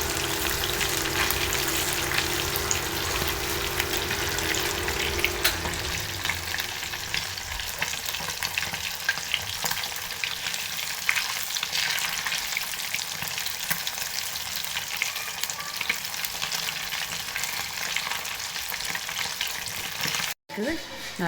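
Fish fries in hot oil for a crispy fish fry, a dense, constant sizzle and crackle throughout, with a stir or flip shifting the sound partway and a brief clatter near the end.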